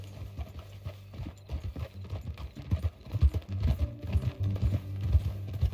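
Steady clip-clop of horse hooves trotting at a moderate pace in Red Dead Redemption 2, close and fairly loud, with a low ambient hum underneath.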